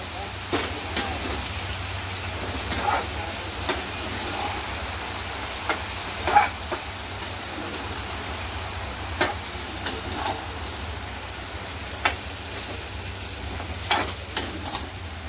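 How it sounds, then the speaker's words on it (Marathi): Chicken masala with cashews frying over a high flame while being stirred in a pan: a steady sizzle runs throughout, broken by scattered scrapes and knocks of the spoon against the pan. "आता आपण गॅस मोठा करूया आणि हे सगळं या चिकनवर मसाला टाकून देऊया आणि हा सगळा मस्त असा हलवून घ्यायचा"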